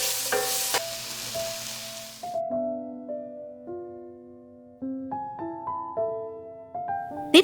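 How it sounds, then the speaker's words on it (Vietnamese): Onion and scallion with seasoning are stirred and sizzle in a hot pan for about two seconds, a brief close scraping fry that gives way to plucked background music. "Trộn đều lên cho gia vị tan."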